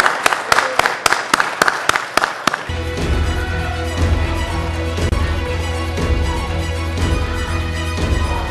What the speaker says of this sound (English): Let's give a round of applause to recognize this important milestone.